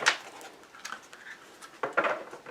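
Outdoor birdsong with scattered chirps and calls, moderately near, arriving in short irregular bursts over a quiet background.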